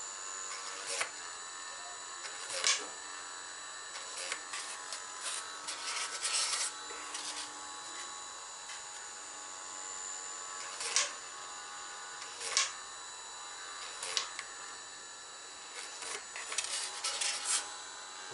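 A drill bores holes in a part for a Kawasaki Ninja H2 motorcycle, giving short scattered bursts of high grinding rasp with quiet gaps between them, each lasting under a second.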